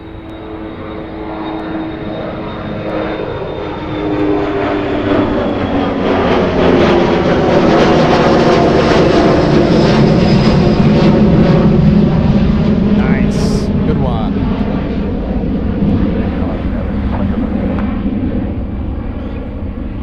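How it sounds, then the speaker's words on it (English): An Eastern Air Express jet bound for Santa Clara, Cuba, takes off down a runway at Miami International Airport. A loud, sustained engine roar builds and holds steady throughout, with a voice talking over it. "The next one, racing down the runway, we have Eastern Air Express flying to Santa Clara."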